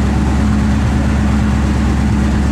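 A 1967 Chevrolet Nova SS engine idles steadily nearby, a loud low rumble with an even throb and no variation.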